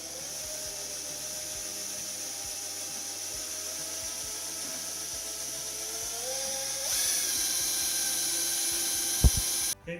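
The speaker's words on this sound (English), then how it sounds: "That'll help keep that drill bit in place when we drill the pilot hole." Power drill boring a pilot hole into a motorcycle lift top, a steady high whine that holds close and loud, steps up in speed partway through, then ends with a brief knock.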